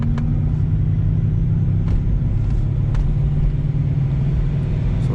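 Supercharged C6 Corvette pulling hard in third gear from 40 to 100, a deep, loud, sustained engine rumble and roar with no speech.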